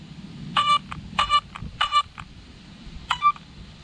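A brushless ESC in a WLToys 104001 RC car plays its startup tune: four short, bright electronic beep groups with pauses between them, clear and close over a faint low background hum.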